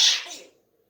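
Pet parrot mimicking a human sneeze, a single short sharp hissing burst that fades quickly into silence.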